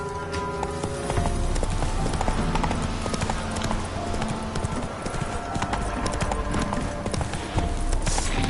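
Roach the horse in The Witcher 3 gallops with rapid, steady hoofbeats throughout, close and loud over a busy game soundscape, with a faint snort or whinny.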